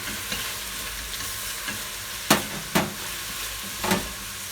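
Steady sizzle of garlic frying in a pan with a few clinks and scrapes of stirring, for borscht soup; no voices.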